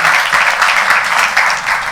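Audience applause fills an awards ceremony hall, a steady, loud wash of many hands clapping together, continuing without a break.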